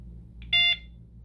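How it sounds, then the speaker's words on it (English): A single short electronic beep from a Motorola Profile 300 phone as it is plugged in to charge, clear and close, standing out against a quiet low hum. "You heard that beep."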